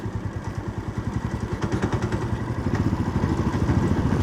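A motorcycle engine, shifted from fourth into fifth gear and straining as it pulls, chugs close by with a steady pulsing thrum. The thrum gets a little louder toward the end, and no one speaks.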